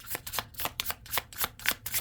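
Tarot cards being shuffled by hand, a quick run of soft riffling bursts in a steady rhythm, close and fairly quiet, with no talking.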